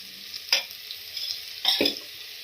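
Spices and chili powder stirred and frying in a pan for radish dal sambar, a steady sizzle broken by a few sharp scraping stirs of the spoon, close and fairly loud with no talking.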